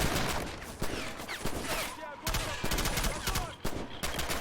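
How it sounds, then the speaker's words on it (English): Bursts of machine gun fire rattle through a WWII Stalingrad battle in the Men of War: Assault game, several rapid volleys with short gaps between them, loud and close amid general combat noise. "Damn fine machine gun position there. Let's fire back."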